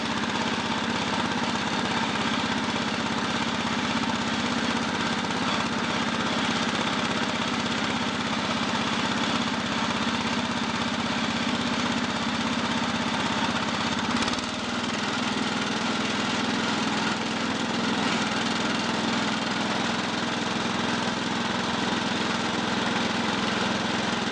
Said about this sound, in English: It's a pretty noisy tractor